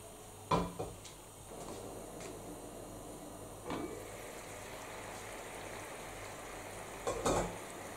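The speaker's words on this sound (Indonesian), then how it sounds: "Nah sekarang kita didihkan hingga airnya setengah surut gitu ya" Rice for a mushroom risotto simmers in a pot with a soft, steady bubbling hiss, broken by a few clinks of a spoon or lid against the pot.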